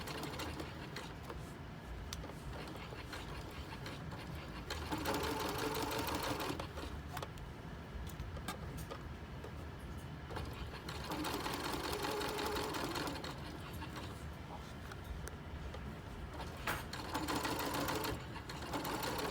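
A home sewing machine running a long basting stitch to hold a lapped zipper in fabric, steady mechanical whirring in bursts that speed up and ease off, close and loud, with no voices.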